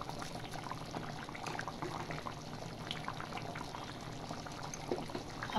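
A pot of bitter gourd and jackfruit seed curry with curry leaves boils steadily, giving a continuous close bubbling and simmering texture with no talk.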